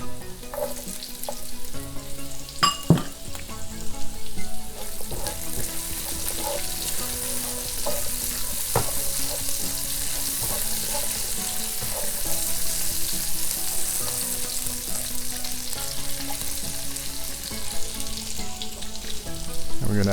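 Ginger fries in a hot pan for beef and broccoli, giving off a steady, dense sizzle with occasional clinks and scrapes of stirring, close and continuous without speech.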